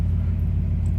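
A Ford Mustang Shelby GT350 engine rumbles low and steady close by, a heavy, continuous burble over about a second with no talk.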